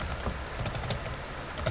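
Keys on a computer keyboard clatter in a quick, steady run of close, soft taps, with no voices.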